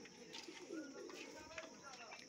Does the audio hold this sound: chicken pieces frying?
no